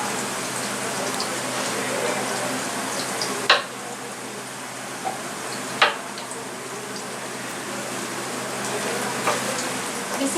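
Onions sizzling as they fry in a pan in a home kitchen in India, a steady broadband hiss with a few brief clicks and pops, fairly close and without talk.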